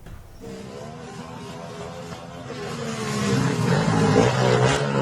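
Loud aftermarket motorcycle exhaust revving on a street in Makassar, South Sulawesi: a throaty engine drone that climbs and grows louder toward the end, with no talk over it.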